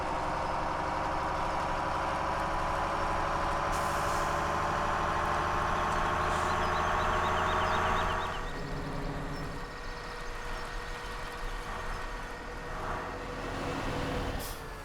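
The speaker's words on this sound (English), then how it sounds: "Okay, looks like the truck's back." A truck in Farming Simulator 17 pulls in with a steady engine drone and a hiss of air brakes, loud and close, the engine note dropping partway through as it settles to idle.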